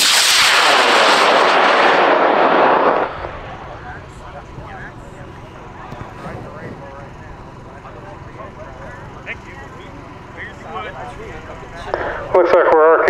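A high power rocket blasts off at a rocket launch event, a loud roaring rush of motor exhaust for about three seconds that cuts off abruptly, followed by quiet outdoor background and distant talk.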